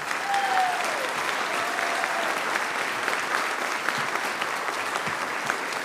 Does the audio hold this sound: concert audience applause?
yes